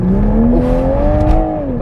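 A 2021 Toyota Supra 3.0 engine revs up at full throttle with a rising, loud tone, pulling hard and close by for a couple of seconds before easing slightly.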